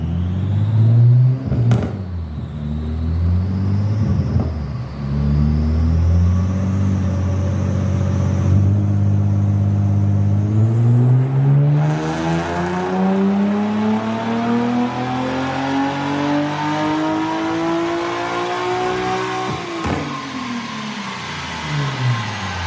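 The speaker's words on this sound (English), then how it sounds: "here's a quick run of the 370S being tuned with the exhaust on it" Nissan 370Z with a tuned exhaust, revving hard on a dyno-style run: the engine note climbs steadily through the rev range with a rising whine, drops, then sweeps up again, loud and close.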